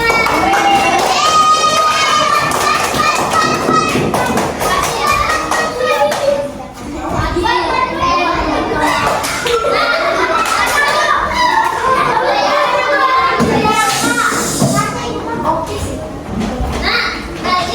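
A room of children claps and chatters loudly together, with bursts of applause mixed with lively young voices throughout and no pause in the noise.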